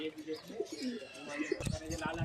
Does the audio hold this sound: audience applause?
no